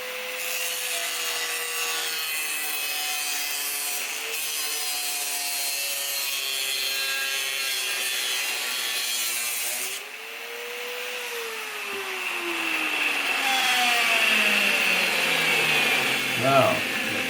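An outer wheelhouse panel on a 1965 Thunderbird convertible being cut out with a power tool, a steady loud whine with rising and falling pitch that dips briefly and then surges higher near the end.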